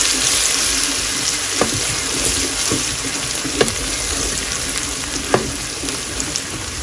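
Garlic and ginger fry steadily in a pan for a lentil dal, giving a loud, continuous sizzle with a few faint clicks of stirring and no talking.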